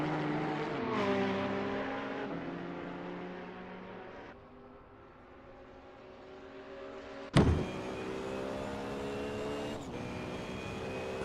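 Ferrari 488 GT3 race car engine in a sim racing game at Suzuka, a steady harmonic drone that dips and swells, with a sharp shift change or jolt partway through and continued loud running afterward.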